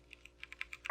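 Keyboard typing a command in the video game Morris: about eight quick, faint key taps spaced evenly through the second, ending in a slightly louder cluster of keystrokes, with no voices.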